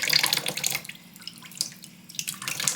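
Tap water runs and splashes in a sink while makeup brushes are rinsed, a close, steady gush that dips briefly in the middle and then picks back up, with no voices.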